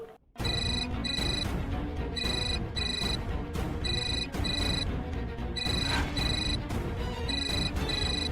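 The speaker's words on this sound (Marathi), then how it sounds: "आई तुझा फोन." A phone ringtone sounds in a Marathi TV drama scene: loud, repeating electronic ring bursts in a steady on-off rhythm that runs throughout, over busy background sound.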